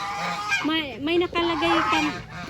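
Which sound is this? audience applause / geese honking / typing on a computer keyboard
geese honking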